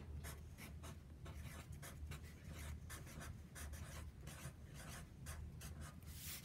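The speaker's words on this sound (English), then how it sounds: "So I'm going to write Mrs. Davis's sketchbook." A pencil or pen writes lettering on a sketchbook cover, close and crisp, with quick scratchy strokes broken by short pauses and no voice.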